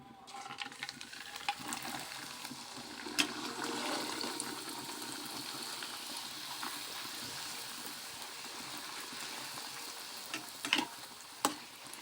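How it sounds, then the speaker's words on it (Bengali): Luchi, puffed flatbread, frying in hot oil gives a steady, soft bubbling sizzle that runs throughout with a few sharper crackles and pops near the end, without any talking. "তেল গরম হয়ে গিয়েছে, এবারে লুচিগুলো ভাজার জন্য একটি একটি করে লুচি দিয়ে দেবো"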